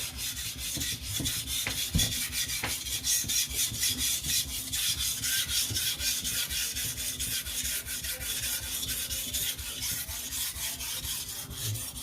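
A knife blade is rubbed across a sharpening stone on its back side, a steady, close rasping scrape repeating in quick strokes for the whole stretch, with no voices.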